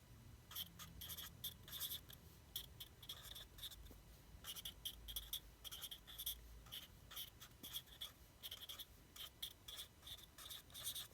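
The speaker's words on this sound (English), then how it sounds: "And our third rule that I'm just going to write down here" Pen or marker writing on a board during a physics lesson on magnetism, quiet scratchy strokes in short bursts with gaps between words, no speech.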